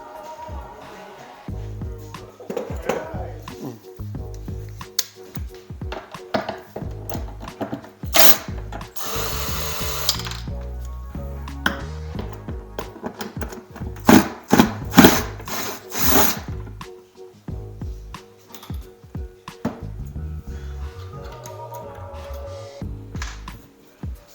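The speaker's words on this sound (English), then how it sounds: "Where's your power drill?" A power drill whirs in short bursts with ratcheting, clicking mechanical noises between them, close by.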